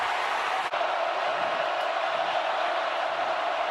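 Crowd at a college football stadium during an Oklahoma Sooners vs Ole Miss Rebels game, a continuous loud roar of many voices, steady and distant-sounding, filling the whole stretch with no break.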